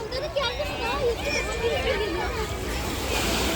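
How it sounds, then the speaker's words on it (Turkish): Waves wash and splash in on a beach, a continuous rushing surf close by, with voices talking over the water. "Dalgalar geliyor."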